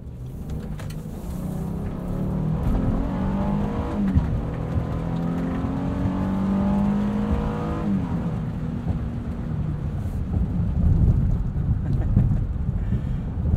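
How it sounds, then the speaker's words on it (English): A 2020 Honda Ridgeline RTL-E's V6, paired with a nine-speed automatic, pulls steadily on the road, its engine note rising and shifting with gear changes under constant wind and road noise, heard from inside the cabin. "This V6 is a peach. It's just such a great engine."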